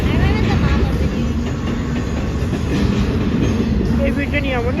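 Close and loud, a long train rumbles by without pause, its wheels clacking and squealing in high wavering tones, while people can be heard talking faintly in the background.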